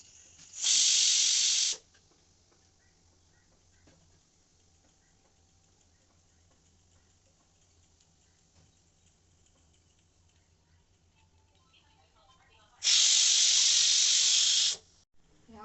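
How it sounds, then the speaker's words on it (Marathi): A pressure cooker cooking field bean curry gives two loud, sharp steam whistles, one near the start and one near the end, with a faint quiet hiss in between. "ह्या कुकरला शिट्ट्या लागोपाठ पटापट 2 आल्या."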